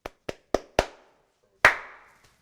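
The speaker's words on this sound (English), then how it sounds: "could you clap since you'll be on camera?" Sharp hand claps used as a filming slate: four quick evenly spaced claps, a pause, then one louder clap with a short room echo, close and crisp with no talk.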